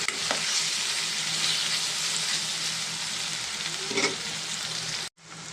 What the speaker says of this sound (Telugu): ఉల్లిపాయలు కొంచెం ఫ్రై అయ్యేదాకా కూడా మనం దీన్ని ఫ్రై చేసుకున్నాము.